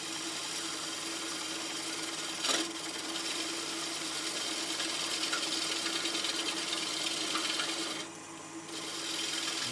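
Wood lathe turning the nub of a wooden flower free, a steady close whirring hum with a brief scraping tool contact early on and a short dip near the end.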